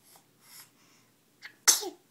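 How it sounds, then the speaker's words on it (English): A young child lets out a single sharp sneeze, close and fairly loud, preceded by a couple of faint breathy sounds. "Mama got sneezes on video."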